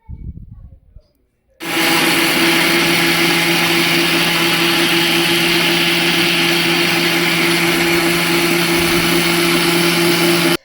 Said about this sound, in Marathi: आईने त्याचा आपण रस काढूया म्हणून मिक्सरला टाकून ते एकजीव करण्याचा प्रयत्न केला.